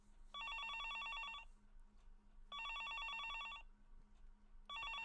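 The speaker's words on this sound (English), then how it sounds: "I stood there and watched the phone ring for a while." A telephone in a visual novel game rings in two-tone electronic bursts, each about a second long, repeating with short gaps, clear and fairly soft against a quiet background hum.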